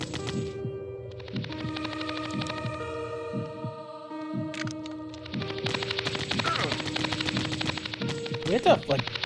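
Gunfire in the horror video game Dementium The Ward sounds as repeated sharp shots amid a droning game hum and throbbing ambience, fairly close with a tonal background.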